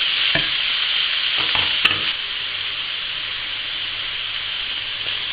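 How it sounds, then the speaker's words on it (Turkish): Minced meat and onion frying in a pan, a steady broadband sizzle with a few scraping stirs of a utensil, close by and continuous. "Bir tane doğradığım kuru soğanı içine atıyorum. Kavurmaya devam ediyorum."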